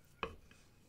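A knife strikes once against a plate or board while cutting a slice of birthday cake, a single sharp, close tap followed by a fainter touch, otherwise quiet.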